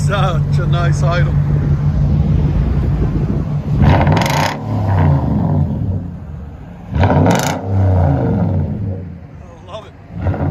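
A Nissan Titan 5.6L V8 fitted with an aftermarket exhaust rumbles loudly up close, swelling through two or three sharp revs over a steady idle, while people talk over it.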